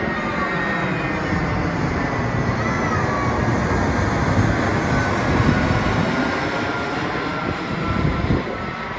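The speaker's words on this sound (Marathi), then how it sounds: "अजून एक एरोप्लेन आला तुम्हाला दाखवते मी किती जवळ आहे ते बघा" An airplane flies low overhead near the beach in Surat, a loud, continuous broadband engine roar lasting about nine seconds with no voices over it.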